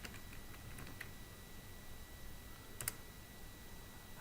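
A file name being typed on a computer keyboard while coding a Flutter app, a few quick, light key clicks in short clusters against a steady low room hum, close and quiet, with no talk.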